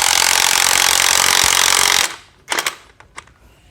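An impact wrench hammers loudly and continuously for about two seconds as it spins off the nut on a Volkswagen Skoda suspension strut mount, then stops, followed by a few metallic clinks of handling.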